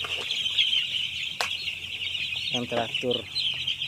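Broiler chickens cluck and chatter while feeding in a poultry house, their short calls coming in quick bursts over a steady high insect-like hum, with a brief wing flap and a voice talking in between.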